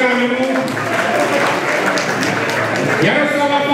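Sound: audience applause

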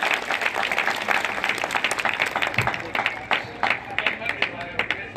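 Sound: applause

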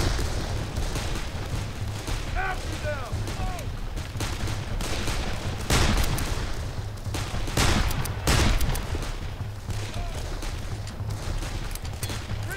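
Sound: gunfire in the video game Darkest of Days

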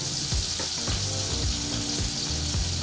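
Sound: scallops searing in a hot pan

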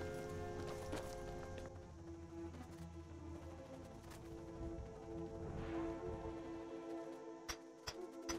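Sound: horse hooves approaching in the video game Skyrim

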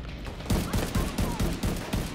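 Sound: enemy firing launchers in video game The Division 2

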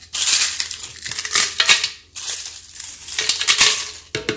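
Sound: blender grinding eggshells

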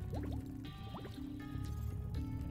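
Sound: underwater ambience in video game Spyro Reignited

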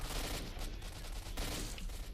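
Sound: gunfire in a video game

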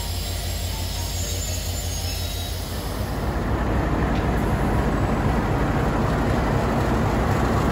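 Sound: old Bangladesh Railway passenger train

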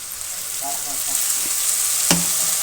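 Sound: onions and spice paste frying in oil

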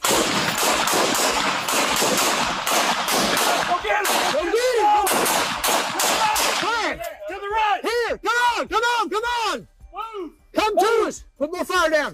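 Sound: gunfire during police shootout

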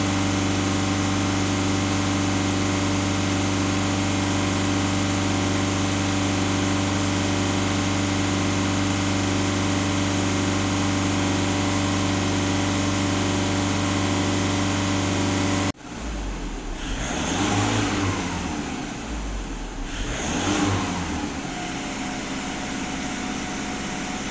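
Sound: VW Passat B7 diesel engine revving near 3000 rpm

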